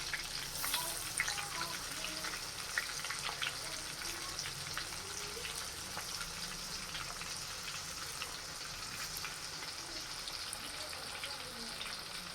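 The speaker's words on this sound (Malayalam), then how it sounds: "ഇവിടെ കുടുത ഫ്രൈ ചെയ്യാൻ പോവാണ്" Kudutha fish frying in a pan gives a steady, continuous sizzle and crackle that holds at an even level throughout, close and unbroken.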